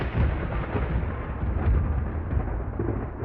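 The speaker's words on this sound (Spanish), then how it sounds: "La noche en que la trasladaron había tormenta, mucho viento y fuertes truenos hacían vibrar las ventanas del edificio." Rolling thunder during a windy night storm, a loud, continuous low rumble that swells and holds steadily throughout with no voices.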